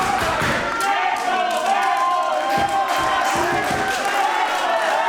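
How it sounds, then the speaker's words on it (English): A wrestling show crowd roars and cheers continuously behind a wrestler, with thuds and scattered claps mixed into the loud, sustained noise and a commentator's voice over it. "the crowd trying to get behind Mike Vecchio to help him pick up what would be a famous win"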